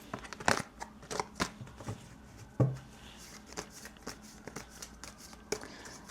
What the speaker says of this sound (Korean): 마지막으로 여러분들에게 드릴 수 있는 조언 카드 한번 뽑아보겠습니다